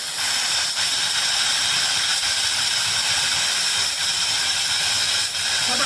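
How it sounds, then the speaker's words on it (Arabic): Steam hisses loudly and continuously from the valve of a pressure cooker cooking trotters as it is opened gradually. The harsh, steady spray holds throughout with slight fluctuations. "وهبدا ان انا افتحها تدريجي، مش هفتحها مره واحده عشان خاطر البخار"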